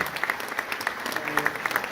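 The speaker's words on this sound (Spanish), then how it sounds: "renovamos el aplauso para esta ida y vuelta de reconocimiento y de presente" An audience at a museum anniversary celebration applauds, a moderately loud patter of many hands clapping steadily throughout.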